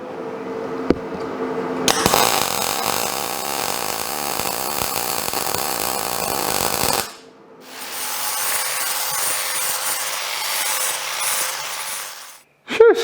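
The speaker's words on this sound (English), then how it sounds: "that was a fair bit of grinding" Metal is ground by hand for a custom rat rod steering wheel, a loud, harsh continuous grinding close by that cuts out briefly and then resumes before stopping abruptly.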